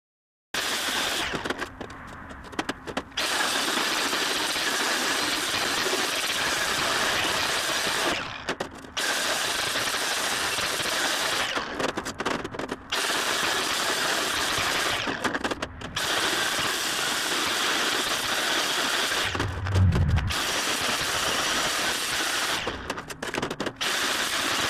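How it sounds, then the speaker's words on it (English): An angle grinder fitted with a wire wheel scours a steel log-rack frame in loud, harsh, whirring bursts. Short pauses separate the passes. "To clean up everything, I'm going to use a wire wheel on my grinder."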